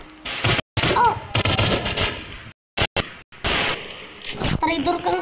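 Gunfire in a Squid Game 2 themed game: loud sharp bursts and rapid shots broken by short silences, close and harsh, with mechanical clatter between them and no talk.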